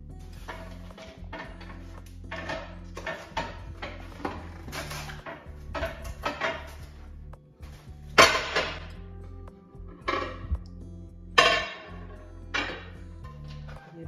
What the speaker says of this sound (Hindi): तो अब मैं इनको रखूँगी उधर अलमारी में सब बर्तनों को